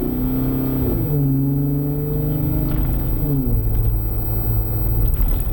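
A Jeep JK engine with an AFE Mach Force-XP exhaust revs through rising and falling pitches, a deep, loud, steady rumble with smooth throttle changes and shifts.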